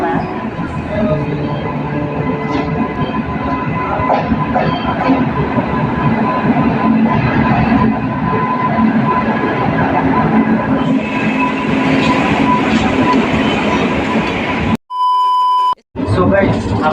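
A passenger train on the way to Kolkata runs along the rails with a loud, continuous rumble and rattle of the carriage, and a sharp electronic beep breaks in near the end.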